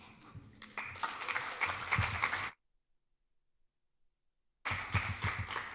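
Conference audience in Venice applauding, a dense broadband wash of many hands that swells, cuts to silence for about two seconds, then resumes just as loud.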